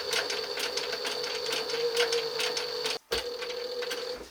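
A sewing machine runs a fine stitch through leather backed with cardboard, laying a decorative inlay pattern. Its rapid, even whirring and ticking carries on steadily up close, with one brief pause near the end.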